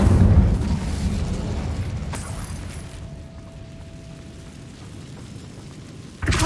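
An Incendio fire spell goes off in Hogwarts Legacy with a loud, close burst. It fades into a low rumbling tail, and a sharp impact cuts in at the end.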